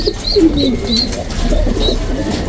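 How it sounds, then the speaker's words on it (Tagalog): A black tiger young racing pigeon coos up close in a loft, giving repeated soft throaty coos in a loose rhythm, loud and clear with no talking. "Black tiger yan. Kaganda. Bago nating kalapate."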